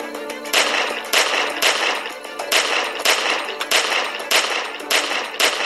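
Gunfire in The Walking Dead: 400 Days, a loud burst of repeated shots in a fairly regular rhythm, roughly one every half second, with no speech over it.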